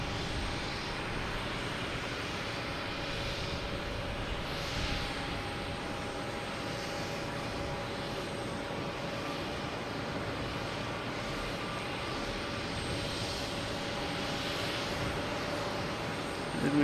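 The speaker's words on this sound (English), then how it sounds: "We do have a landing coming in coming into Delta from San Juan." A Delta airliner landing at Boston Logan on its arrival from San Juan, a steady broadband engine roar held at moderate level for the whole stretch, distant and unbroken, with no talk.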